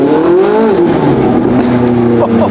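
A Lamborghini SVJ fitted with a Gintani F1 exhaust burbles loudly up close, its low rumbling idle note wavering before a couple of sharp pops crackle near the end.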